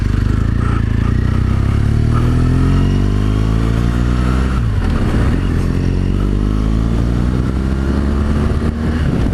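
BMW R 1200 GSA motorcycle on a demo ride, loud engine drone rising and falling through gear changes as it accelerates, with wind rush and rumble heard up close the whole time.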